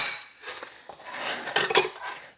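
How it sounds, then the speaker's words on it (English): A knife and utensils cut through the crust of a sweet potato pie, making a few soft scraping and tapping sounds. The clearest metallic scrape comes near the end, close by. "let's cut us a piece of pie"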